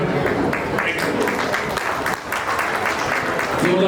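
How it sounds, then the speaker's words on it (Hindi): Loud, continuous audience applause at an alumni meet: a thick wash of many hands clapping at once, steady for the whole stretch, with some murmuring voices underneath. "जोरदार तालियां दो"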